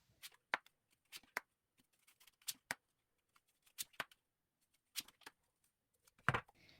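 Tarot cards being shuffled and handled during a tarot reading: a series of sharp, separate papery snaps and flicks in irregular bursts, close and fairly quiet, with no talking.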